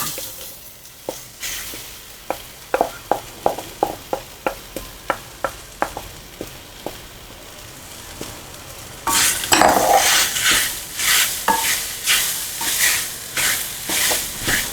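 Repeated clinks of a spoon against a pan, then louder rhythmic scraping as a thick, coarse ground pea paste is stirred over a very low gas flame, close by.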